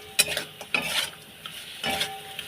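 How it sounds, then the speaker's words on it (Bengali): Egg chicken chow mein stirred in a pan over a high flame, a few quick scraping, sizzling strokes of the utensil heard close up in short rhythmic bursts. "ফুলে দিয়ে এটাকে নেড়ে নেবো"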